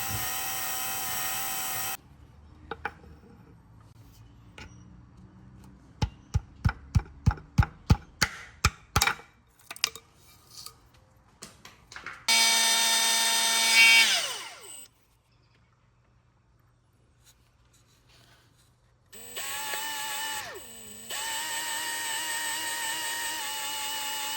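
A power drill fitted with the kit's drill bit bores into a pinned crank hub for an N5X. After a run of sharp clicks and taps, the motor whines in two steady, loud, close bursts separated by a quiet gap. No one speaks.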